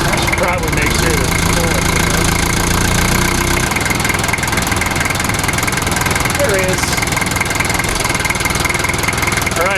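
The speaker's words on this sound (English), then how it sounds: "what makes these diesel engines run rougher than the top?" The diesel engine of a right-hand-drive 1988 Toyota Land Cruiser idles roughly with a loud, constant, slightly knocking rumble, while someone speaks briefly over it.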